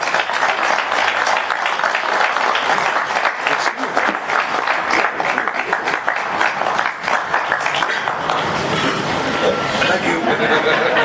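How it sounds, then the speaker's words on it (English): An audience at a ceremony honoring John Records Landecker with Indiana's Sagamore award breaks into loud, sustained applause, dense and close throughout, with a few voices mixed in. "let's give a big round of applause to our newest state Sagamore"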